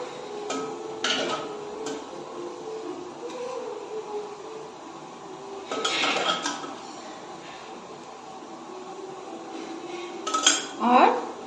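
Chickpea curry (chole) being served onto a plate for chole bhature, with clinks of spoon against dishes and pans in bursts around the middle and end of a quiet kitchen scene.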